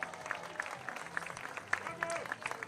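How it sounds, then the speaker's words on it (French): Faint, distant applause patters steadily, a small crowd clapping with a few sharper claps standing out. "on va l'applaudir très très fort"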